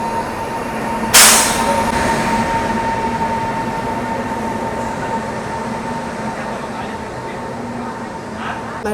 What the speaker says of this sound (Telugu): ప్లాట్ఫామ్ నెంబర్ 1లోకి అయితే ఏదో బండి వస్తుందండి